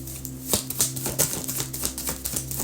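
Tarot cards being shuffled by hand, a quick series of crisp riffling clicks and flutters in an uneven rhythm, close up, over a faint steady hum.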